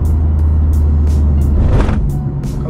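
A Nissan GT-R R35 accelerates with a deep, loud engine rumble heard from inside the car, holding steady, with a brief rising burst partway through and no talk over it.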